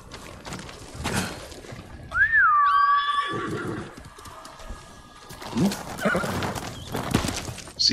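A sick horse in the video game Ghost of Tsushima gives a single rising-and-falling whinny midway, amid clip-clopping hooves and scattered rustling noises before and after.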